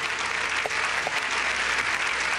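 Steady applause from a studio audience on an Azerbaijani TV cooking show, a dense, even wash of clapping that holds at a constant level throughout with no voices on top.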